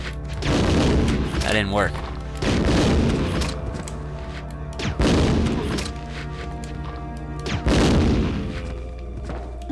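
Grenade explosions in Resident Evil 2 go off as several heavy, booming blasts at irregular intervals over a continuous low rumble, loud and close, while someone briefly speaks.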